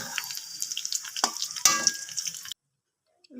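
Fried green beans being lifted out of butter and oil, with scraping stirs and a soft crackle for about two and a half seconds, then near silence.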